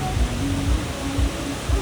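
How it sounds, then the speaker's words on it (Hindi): A milky-white Himalayan waterfall beside the rough mountain road to Badrinath gives a steady, dense rushing roar that fills the whole clip without pause. "ये जो आप झरना देख रहे हैं ये एकदम दूध की तरह है, दूध की तरह सफेद और बहुत ही सुंदर।"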